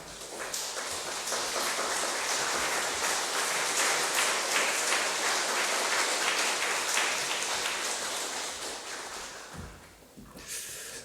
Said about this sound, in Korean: 제가 전해줄 때 박수로 격려합시다